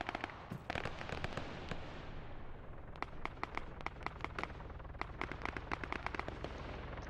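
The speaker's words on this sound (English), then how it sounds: "Hear a lot of shooting this way." Gunfire in the Arma 3 video game cracks in irregular bursts of sharp reports, some in quick clusters, heard at a distance over a low constant rumble, with no talk.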